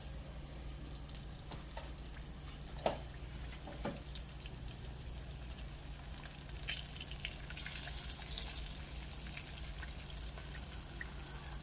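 Pork chops brown in a skillet, a faint, steady frying hiss under a low hum, with a couple of soft clicks and no voices.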